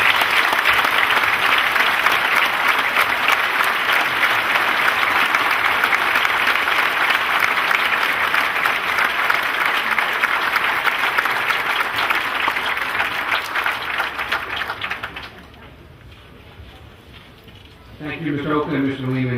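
Graduation audience giving sustained applause in a hall, dense loud clapping from a large crowd for about fifteen seconds, then fading, with speech following.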